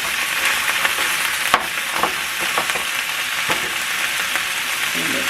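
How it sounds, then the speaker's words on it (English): Meat frying in a pan for nachos, a dense steady sizzle with occasional sharp stirring scrapes and clicks, close and loud with no talking. "I'm gonna let this meat cook"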